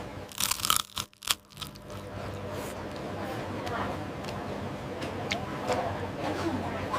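A few sharp, loud crunching bites into crunchy rice paper with fresh fish and peanut sauce near the start, followed by softer chewing under a steady background hum.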